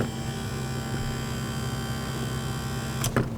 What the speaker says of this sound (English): A sort of working window motor that's not installed.